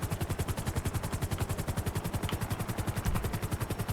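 A helicopter in a GTA roleplay game coming in to land, its rotor thudding in a steady rapid pulse with a dense whine over it, loud and close throughout.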